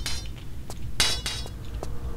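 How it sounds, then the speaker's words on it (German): A bird claws and scratches in Tomb Raider IV, The Last Revelation, making bright, brief metallic clinking scrapes, several in uneven succession with one stronger hit midway, over a low constant background hum. "Der Vogel macht das einfach so mit seinen Krallen."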